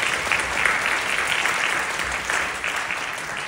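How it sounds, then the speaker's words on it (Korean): Steady applause from a church congregation during a Sunday service, a thick, continuous roll of many hands clapping at even loudness throughout. "우리 박수를 격려해 주시죠."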